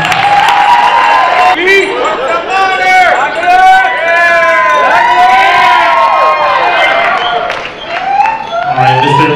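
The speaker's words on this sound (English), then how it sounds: "big round of applause for Cody" Wedding reception crowd cheering and applauding for the newlyweds, a loud steady roar of claps with whoops and high shouted cheers over music, sustained throughout.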